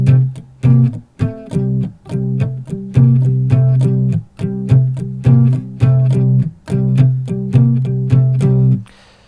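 Electric guitar playing a rhythm part: short, punchy chord stabs in a steady, syncopated groove with brief pauses between phrases, close and clear with no voices.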